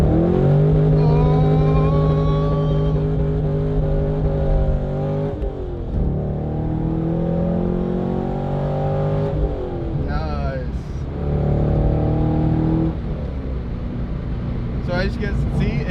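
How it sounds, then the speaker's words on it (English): A 2004 Corvette C5 with a Corsa Extreme axleback exhaust revs hard and close, climbing in pitch and bouncing off the rev limiter several times, with a voice speaking over parts of it. "That rev limiter sounds pretty heavenly from here"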